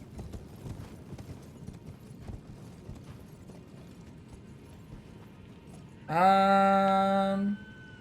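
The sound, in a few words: horse hooves clip-clopping, Elden Ring video game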